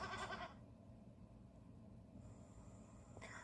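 A goat gives a short, loud bleat at the start of a TV advert, followed by low background noise and a faint bleat near the end.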